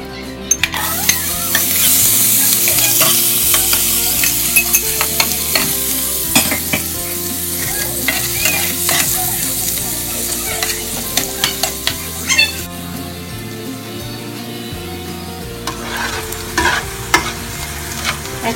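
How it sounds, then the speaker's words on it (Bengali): Onions and green chillies fry in oil in a pan, giving a steady bright sizzle broken by frequent scraping clicks of stirring, close and loud throughout. "এখন আমি পেঁয়াজগুলো ভাজবো।"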